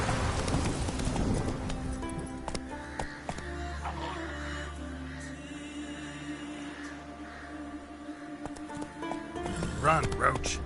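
Roach, Geralt's horse in The Witcher 3, gallops with steady hoofbeats under game ambience, rain-like hiss and birds, while voices talk over much of it.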